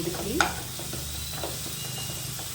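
Crushed garlic and banana curry frying on a low flame: an even, close sizzle holds throughout, with one brief utensil clink near the start.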